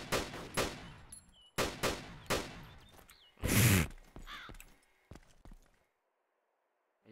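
Gunfire in the video game ARMA 2 DayZ mod: several sharp, loud reports in quick pairs, echoing briefly, followed by fainter scattered shots and sparse game sounds before silence.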